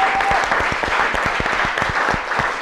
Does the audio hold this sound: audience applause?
yes